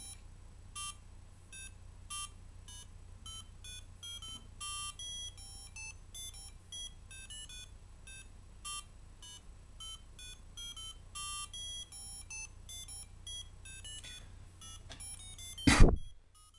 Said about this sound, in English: You can hear that some beeps are really sloppy